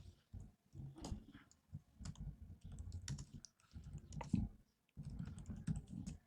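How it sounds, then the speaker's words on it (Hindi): Fingers type on a computer keyboard, giving soft, quick clusters of key clicks in irregular bursts with short pauses, close but quiet. "एग्जाम्पल के लिए मैं यहाँ पर टाइप कर रहा हूँ"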